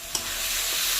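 Chopped tomatoes dropped into hot oil in a frying pan, a sudden burst of loud, close sizzling that holds steady and hissing, with a brief stir.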